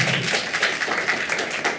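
Audience clapping at a Greek stand-up comedy special, a fairly quiet, even patter of many hands with no voices over it.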